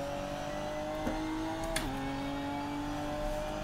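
A race car engine in the Assetto Corsa sim holds a steady, sustained drone on a flying lap, with a couple of quick gear-change dips and a brief pitch drop partway through, heard alone at moderate level.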